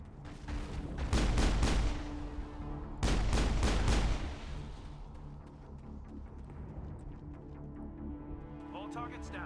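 Pistol gunfire in the video game Mass Effect, two loud bursts of rapid shots about two seconds apart, followed by quieter game sounds and a voice talking.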